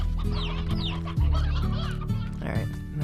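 Rooster clucks from the farm animals in the video game Slime Rancher, several short calls in a row over a steady game background hum, fairly near and moderately loud.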